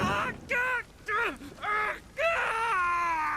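Screams and wails from characters in The Witcher 3 video game, several drawn-out high, wavering cries in quick succession, loud and close with no other talk.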